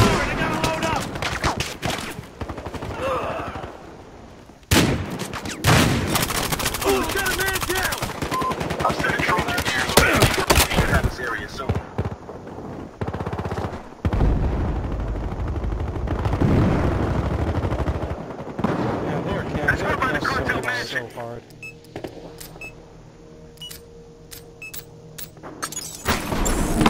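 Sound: gunfire in the video game Battlefield Hardline

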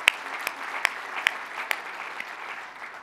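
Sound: audience applause at conference keynote

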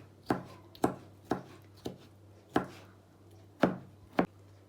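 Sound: knife chopping gherkin pickles

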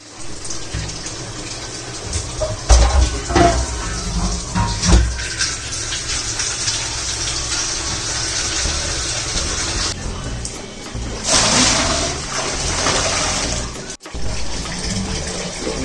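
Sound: running water

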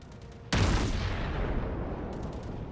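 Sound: naval gunfire in World of Warships video game

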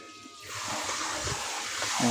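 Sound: portable shower water flow

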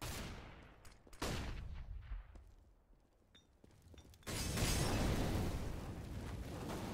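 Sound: flashbang grenade thrown in the video game CS:GO

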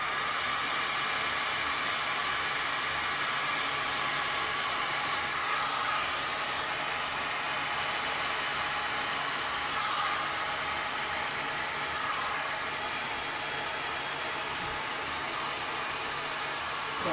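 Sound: heat blowing on resin pour

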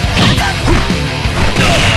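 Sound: repeated punch attack hits in MUGEN fighting video game

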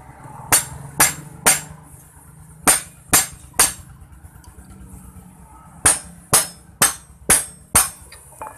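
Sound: tightening a clutch nut on a Suzuki Shogun 125

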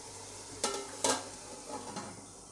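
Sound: chicken being mixed into masala, cooking in a pot

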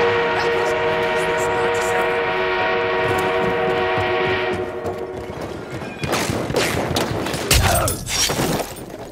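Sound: armored train moving in a video game

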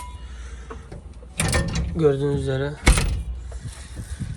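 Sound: Massey Ferguson 240 tractor cab window opening

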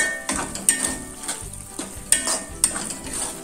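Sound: stirring green chillies in a frying pan for chilli garlic chicken

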